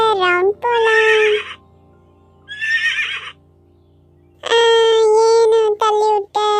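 Horse neighing in a village: several loud, close whinnies in bursts separated by short gaps, with a faint low hum underneath; no clear hoofbeats stand out.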